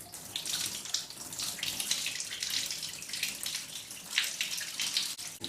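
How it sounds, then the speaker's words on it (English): Lye water from curing olives pours steadily into a bathtub, a continuous splashing rush of liquid with small surges and gurgles, close and fairly loud. "Now this is why we've got it in the bath, because it's a good place to empty it out."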